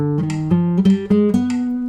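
A short run of single pitched notes played one after another, stepping through a C harmonic minor scale in a quick even rhythm with no talking.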